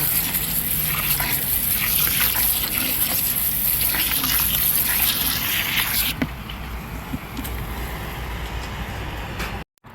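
Water gushing steadily over canna roots to loosen packed soil, a loud continuous rushing flow that thins out partway through before cutting off abruptly.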